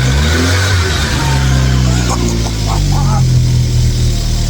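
An abandoned Volkswagen Vento's engine, just brought back to running, revs loudly, its pitch climbing and swelling in bursts close by, with a faint voice briefly audible underneath.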